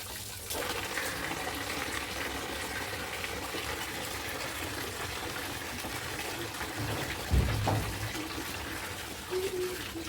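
Steady background splashing and trickling of bath water while a child bathes at home, faint and continuous, with a couple of brief knocks and thumps partway through.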